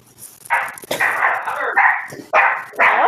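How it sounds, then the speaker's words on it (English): A dog barks and yips excitedly indoors after coming back inside, with several loud, close bursts in an uneven rhythm, mixed with people talking. "Is that your dog?"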